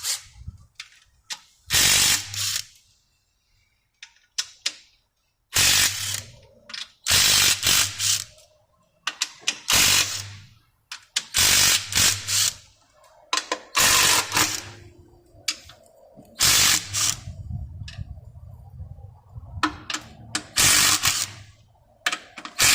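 A ratchet wrench fitted with a 12mm socket loosens bolts on a Honda Odyssey 3.5L engine, rapid close clicking bursts repeating in short bouts, separated by pauses.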